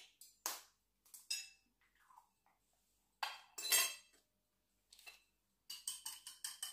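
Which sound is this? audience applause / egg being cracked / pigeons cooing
egg being cracked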